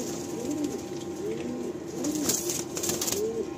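Pigeons in a loft in Kolkata cooing close by, repeated soft rolling coos over a steady background hiss, with no talk.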